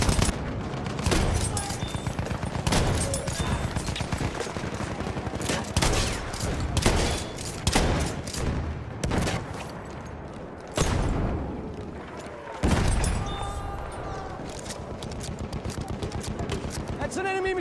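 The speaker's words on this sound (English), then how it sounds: "It's an enemy machine gun!" Enemy machine gun in Battlefield 1 rattling in sustained, dense bursts amid heavy battlefield shooting and occasional booms, loud and continuous, with voices shouting under the barrage.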